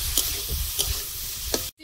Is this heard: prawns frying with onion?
yes